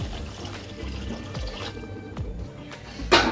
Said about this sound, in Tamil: நல்லா வதங்கினோடனே அதில் தண்ணி ஊற்றிக்கலாம்